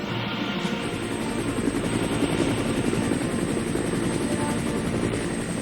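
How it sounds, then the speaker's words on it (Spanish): A Vietnam War-era American helicopter's rotor thumps rapidly and steadily with a loud engine whine, close and continuous, no voices. "La guerra del Vietnam es el triunfo del helicóptero."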